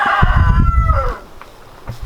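A chicken's drawn-out call rises and falls nearby over low rustling, then fades into quiet.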